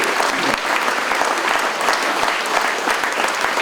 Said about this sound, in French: Et merci de vos applaudissements